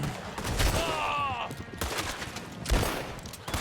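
Gunfire in the Western video game Red Dead Online, sharp shots cracking out in bursts amid a noisy shootout, with a whistling tone briefly cutting through and a loud report near the end.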